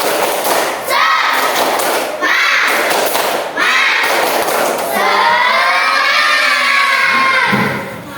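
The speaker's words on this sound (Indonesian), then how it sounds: "Sekali lagi, tepuk semangat." A room of third-grade schoolchildren repeats a clapping chant, with rhythmic bursts of claps and loud unison shouting, close and lively, building to a long sustained group cry before a brief drop at the end.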